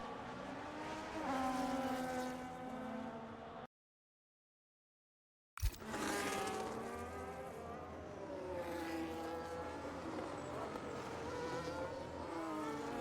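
F1 cars race around Monaco in a video game. Engines whine and buzz nearby, with overlapping high-pitched tones rising and falling as the cars pass. A brief total dropout and a sharp click break the sound partway through.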